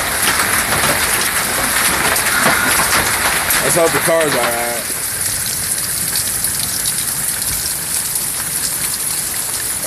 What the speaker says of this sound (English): That's some big old hail.